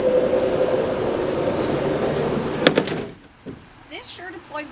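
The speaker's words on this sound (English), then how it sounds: "This Sure Deploy will continue beeping for about 20 seconds and then will eventually shut off" Repeated high electronic beeps from the wheelchair ramp of a 2017 Toyota Sienna with a VMI Northstar conversion sound at a steady interval over a low hum, then stop as a voice begins speaking nearby.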